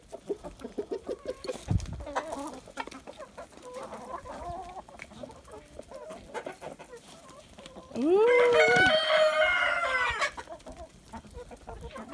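Chickens cluck and chatter while pecking at soldier fly larvae treats, soft irregular clucks close by, then a loud drawn-out crow-like squawk bursts out for about two seconds near the end; a voice murmurs briefly.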